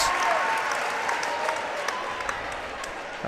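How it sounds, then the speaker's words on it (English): A crowd at a Section 8AA championship basketball game between Perham and DGF gives a moderate round of applause that fades slowly, with faint crowd noise and a few whistles or squeaks in the gym. "To a nice round of applause."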